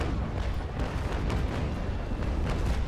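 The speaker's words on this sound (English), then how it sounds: "Might as well give him another broadside fire" A brig's cannon broadside in the Naval Action naval combat game, heard as a dense, continuous booming roar that stays loud and heavy throughout without distinct gaps.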